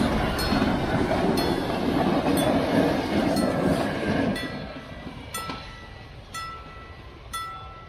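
A train passes on a railway in the open countryside, a loud rushing rumble with rhythmic clicking wheels that fades over several seconds, leaving faint squeals and clinks.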